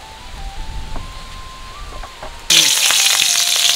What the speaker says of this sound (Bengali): মশলার কড়াইতে তেল দিয়ে দেবো